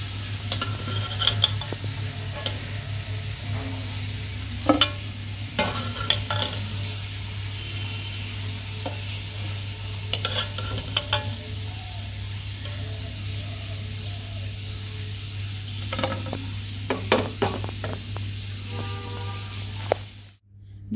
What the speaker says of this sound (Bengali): এবার এটাকে ভালোভাবে ভেজে নেব।